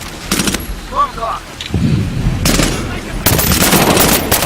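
Bursts of automatic gunfire in the Medal of Honor Warfighter shooter, sharp loud volleys separated by short gaps, heaviest toward the end, with someone talking excitedly between shots.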